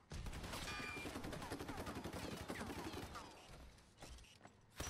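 Gunfire in the video game Hypercharge: Unboxed, rapid bursts of automatic shots in a dense continuous volley that thins out toward the end.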